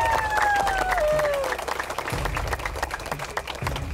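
Studio audience applauding during an Indonesian game show where items are weighed, steady clapping beneath music and a host's voice, with sliding tones early on.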